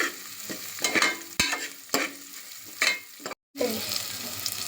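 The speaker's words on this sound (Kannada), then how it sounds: "ಆನಿಯನ್ ಎಲ್ಲ ಚೆನ್ನಾಗಿ ಬ್ರೌನ್ ಕಲರ್ ಆಗಬೇಕು ಅಲ್ಲಿ ತನಕ ಫ್ರೈ ಮಾಡಿ" Onions frying in a pan for chicken biryani, a bright close sizzle broken by repeated spatula scrapes and stirs about every half second, with a brief silent gap near the end.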